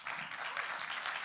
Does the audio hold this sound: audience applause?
yes